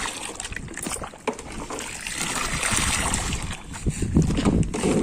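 Soap and water mixture for a plant spray is shaken in a container, making a continuous sloshing, splashing churn with rhythmic surges, close and fairly loud.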